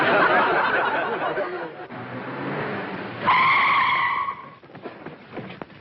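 A car skids to a sudden stop in a 1940s comedy scene, a loud high tire screech rising over a noisy background, then cutting off into quieter shuffling sounds.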